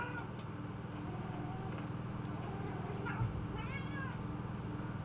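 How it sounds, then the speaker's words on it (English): A house cat meows a few times, fairly faint, over a steady low engine drone from a bomber flight game. "My cat is meowing at me."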